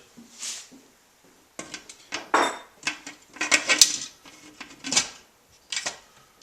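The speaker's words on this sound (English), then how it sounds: "we're going to seal the top off with its own lid" A metal pressure cooker lid is fitted and sealed onto the pot with a roast inside, making a series of close clanks, scrapes and metallic clicks in irregular bursts.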